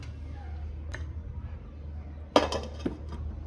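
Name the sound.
lid placed on cooking pot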